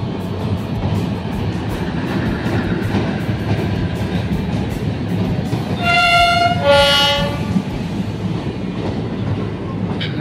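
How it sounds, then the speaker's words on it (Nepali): A train rumbles steadily past close by with a clattering roar, and its horn sounds in two strong blasts partway through. "ट्रेन चाहिँ अलिक बेसी नै कुद्ने हुनाले गर्दाखेरि अलिकति साउन्ड सिस्टममा गडबडी हुन्छ"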